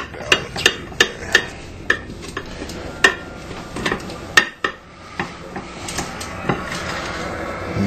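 A knife cuts through barbecued ribs glazed with barbecue sauce and steak seasoning, making a series of sharp, close knocks on a board at uneven intervals over a low background.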